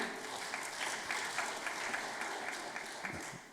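Sustained audience applause at a Sunday Won Buddhist service, a steady soft wash of many hands clapping, fairly distant and even throughout.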